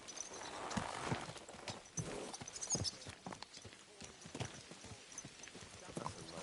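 Horse hooves clip-clop in an uneven rhythm in Kingdom Come: Deliverance II, fairly faint, with game ambience and scattered clatter around them.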